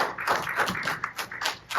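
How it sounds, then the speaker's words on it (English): A group of children claps briefly in a classroom, a short scatter of light, uneven hand claps at moderate distance, with no talk over it. "let's clap it up for him."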